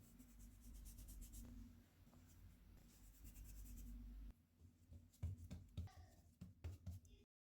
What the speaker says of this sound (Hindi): डो को बेल लेंगे।